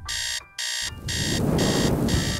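A loud electronic alarm clock beeps in repeated bursts, a short run of bright tones, a brief gap, then steady pulsing beeps that continue over a rising rushing noise underneath.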